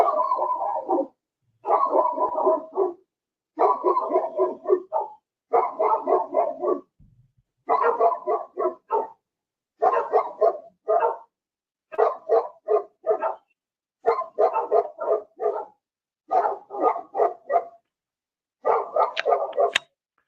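Two dogs bark in steady repeated bursts of rapid barks with short pauses between them, loud and fairly close, continuing throughout with no talk over them.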